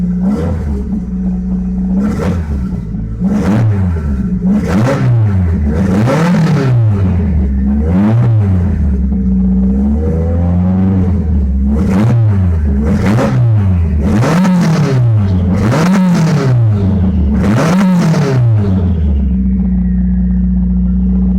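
A car engine tuned with a Megasquirt ECU idles high and cold, a steady loud drone with repeated rising and falling revs and clattery bursts running throughout.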